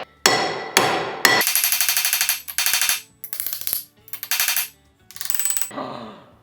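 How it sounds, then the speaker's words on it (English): Loud metal-on-metal hammer strikes on a crusty, stuck part of a Beaudry power hammer during restoration, ringing in rapid bursts of repeated taps separated by short pauses, with a final softer ringing decay. "I'm gonna tap on it with a metal hammer."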